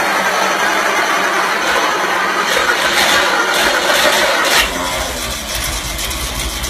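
A loud, close engine on an antique Ford Thunderbird is worked on the starter, a continuous churning mechanical drone that shifts in tone partway through, with no talking.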